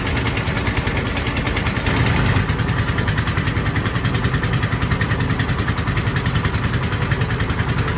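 A trawler boat's engine on a short river crossing near Sada Pathor in Sylhet chugs steadily at a loud, close idle, a continuous throbbing rumble with no pauses.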